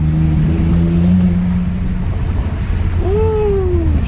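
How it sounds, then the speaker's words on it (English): A car engine idles, then revs up in a rising sweep with a slight misfire, loud and close, with a steady rumble underneath. "Bit of a slight little misfire I'm getting there"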